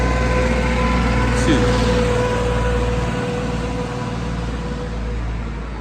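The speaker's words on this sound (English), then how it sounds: "Man, this is just disturbing. This tractor." A steady tractor engine drones nearby with a constant low hum and faint tonal whine, loud and continuous; a voice says a brief word.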